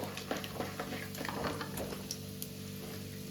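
Chickpeas frying in oil with mustard seeds in a pan, a continuous close sizzle with scattered small pops and crackles throughout.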